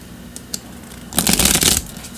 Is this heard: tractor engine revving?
no